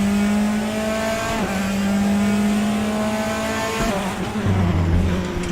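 Race car engines droning loudly in RaceRoom at Portimao, a steady high engine note holding pitch, dipping briefly near the middle and again toward the end as revs shift, with tyre noise underneath and no talk.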